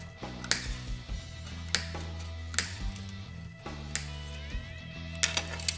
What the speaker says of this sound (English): now we're just going to cut the strings off